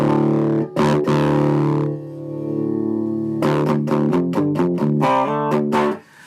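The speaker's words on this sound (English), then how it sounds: "Now over on the tremolo channel, that's where we're getting the real kind of the fun stuff going on." An old Australian guitar amp on its tremolo channel rings out loud, gained-up guitar chords and picked notes, first sustained swells, then a quick run of pulsing, wavering tremolo stabs.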